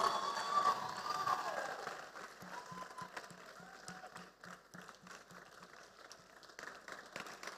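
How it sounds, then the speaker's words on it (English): A conference audience at a music business event applauds a panelist, faint, dense clapping that runs on steadily while a voice speaks over the start. "A round of applause for her, please."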